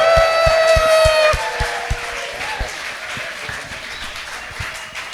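Audience applause welcoming Pastor Brian at a church rally in Indonesia, a steady broadband clatter of many hands under music. It is louder at the start and then eases to a softer, sustained level, with a low rhythmic beat running throughout.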